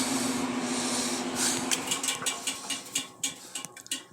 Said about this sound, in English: Switch on. Let's see if the blower comes up.